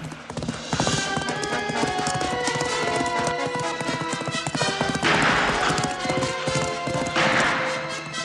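Steady clip-clopping of horse hooves over a full, continuous musical score, the hoofbeats blending into the loud orchestral backdrop throughout.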